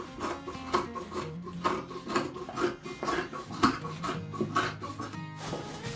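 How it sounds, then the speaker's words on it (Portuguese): Scissors snipping away excess fabric from a handmade patchwork rug of small fabric scraps, a steady run of close, rasping cuts with no talk. "agora que eu já cortei o excesso"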